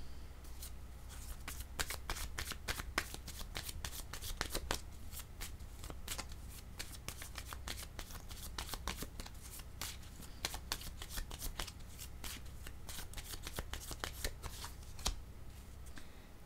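A deck of cards is shuffled repeatedly for a card reading, with crisp riffling bursts and soft slaps of cards coming close and fairly quiet, and no talking.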